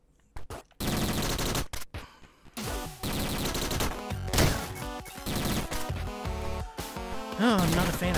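Video game gunfire from Downwell, rapid spraying bursts of electronic shots repeating almost continuously with crunchy impacts, loud and close, mixed with game sound effects and a brief pause early on.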